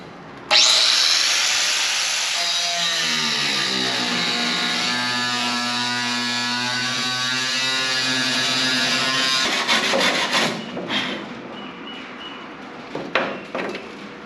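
A power tool cuts through car sheet metal near the gas tank in one loud, sustained grinding whine that shifts in pitch as it bites, then breaks into rougher, choppy bursts toward the end.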